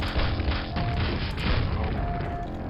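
Grenade launcher blasts in the game Quake, a heavy, continuous run of booming explosions filling the whole clip, loud and close, with no voices.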